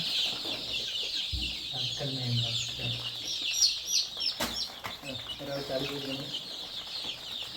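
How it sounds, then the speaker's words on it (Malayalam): A dense chorus of shrill, continuous peeping from a brood of newly bought chicks from the Malampuzha government hatchery, close by and steady throughout, with a low voice and some clucking mixed in underneath. "നമ്മൾ ഇന്ന് കൊണ്ടുവന്ന കോഴിക്കുഞ്ഞുങ്ങളാണ് കേട്ടോ"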